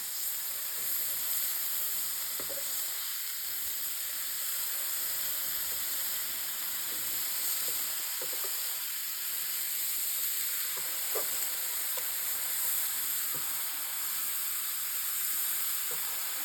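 Homemade sucuk sausage sizzling steadily in a pan, a close, constant frying hiss with occasional soft pops and no voices.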